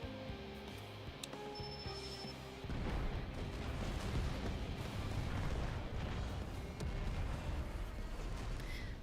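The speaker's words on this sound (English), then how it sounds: "Then let the fireworks begin." Dense, rumbling barrage of bursts and booms from fireworks in an Assassin's Creed game. It starts softer, then swells suddenly into a loud, continuous crackling roar.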